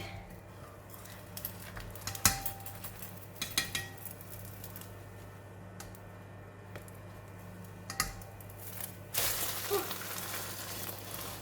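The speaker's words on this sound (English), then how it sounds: "Need to use my big spatula to flip the egg." A big spatula flips an onion omelette in a frying pan, giving a few sharp metallic scrapes and clinks over a quiet background, followed by a brief soft sizzle near the end.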